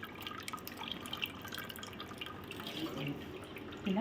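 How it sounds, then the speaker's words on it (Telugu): Milk from ground, soaked wheat trickles and drips steadily while wheat is squeezed by hand, a faint, close, irregular liquid patter that grows slightly louder toward the end. "ఇట్లా పాలు పడతాయి అన్నట్టు"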